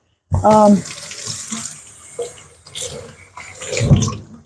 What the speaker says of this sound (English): I got to wash my hands and get something